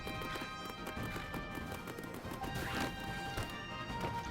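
Horse hooves clip-clop in steady rhythm in Black Desert Online, the ridden horse's footfalls clear and close against a continuous backdrop of game ambience and music.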